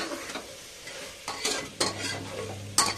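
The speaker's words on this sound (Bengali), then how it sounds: "ব্যাস, এটাকে খুব ভালোভাবে এবার নেড়ে নেব" Soya pulao with potatoes is stirred in a sizzling pan, with close scraping strokes and occasional utensil knocks over a continuous frying hiss.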